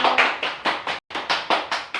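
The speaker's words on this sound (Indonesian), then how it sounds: "tepuk tangan untuk kalian semuanya" A classroom of students claps together in a quick, even rhythm, about ten sharp unison claps with one brief pause midway, loud and close.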